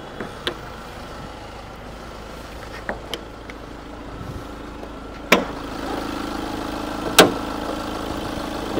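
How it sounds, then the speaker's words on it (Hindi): A car's diesel engine idles steadily at low volume, a constant hum broken by a few sharp clicks and knocks. "देख लो भाई डीजल इंजन का साउंड जो आप कहते हैं।"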